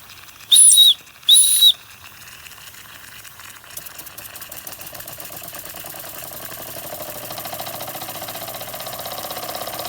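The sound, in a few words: Empire No. 92 steam engine running, Metalware Company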